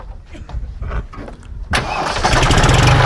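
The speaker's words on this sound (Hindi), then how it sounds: "एक बार ट्रैक्टर स्टार्ट करो बोनट खोल के" A tractor engine cranks and starts with its bonnet open, catching abruptly partway through and settling into a loud, rumbling idle close by. Brief talk comes before the engine fires.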